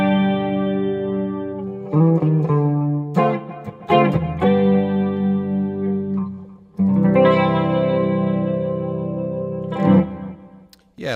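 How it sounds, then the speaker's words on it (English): Electric guitar with a chorus delay effect rings out sustained, shimmering chords and arpeggiated notes that trail off into echoing repeats, loud and alone with no talking. "a nice chorus delay sound"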